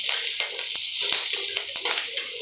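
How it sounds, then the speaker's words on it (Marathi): Green chilies roast in hot oil in a preheated iron kadhai, giving a continuous bright sizzle broken by regular scrapes and knocks of stirring. "भाजून घ्यायची मिरची."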